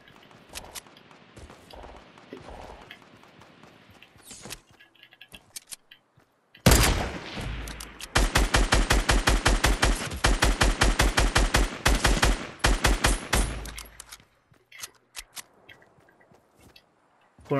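Video game gunfire in a duo battle match: a few scattered shots, then a long sustained burst of rapid automatic fire up close, followed by sparse single shots and footsteps.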